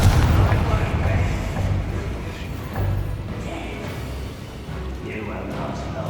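Confringo blasting spells burst in Hogwarts Legacy as a series of deep, rumbling explosions, loud and close, with a voice talking over the spellcasting.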